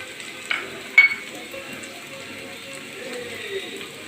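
Chapati mix with curry leaves frying in a pan, stirred with a few utensil scrapes and clicks early on, then a soft, steady sizzle continuing underneath.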